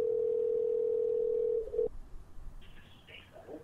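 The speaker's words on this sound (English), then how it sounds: "let's get Dan Carlin on the phone" A steady telephone dial tone hums alone for about a second and a half as a call is placed, then cuts off into faint line noise and brief electronic beeps.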